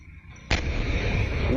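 After a brief lull, a single heavy artillery blast booms nearby, shaking a roof, followed by a rumbling, rattling roar that carries on.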